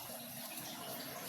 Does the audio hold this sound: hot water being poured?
yes